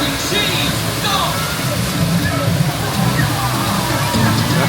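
Rushing, sloshing water from the River Rapids ride at Alton Towers theme park, a steady loud roar of churning flow throughout, with faint background chatter.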